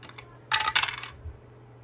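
Dice clatter briefly on a hard surface during a board game, a quick burst of rattling clicks lasting under a second in a quiet room.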